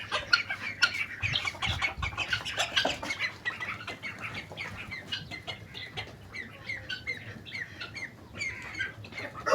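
Pet chickens cluck and squawk in quick, repeated bursts close by, with a sharp call standing out now and then, and no one talking.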